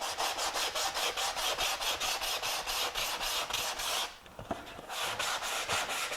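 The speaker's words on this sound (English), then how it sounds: "We'll sand this all out." Hand sanding of a wooden sign with 120 grit sandpaper gives a close, loud, rhythmic rasp of quick back-and-forth strokes, with one brief break before the strokes resume.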